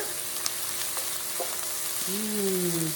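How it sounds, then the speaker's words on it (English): Onions and jalapeno pepper frying in a pan over medium heat, a steady close sizzle with light stirring clatter and a brief utensil tone near the end, no talking. "I've got these onions cooking on medium"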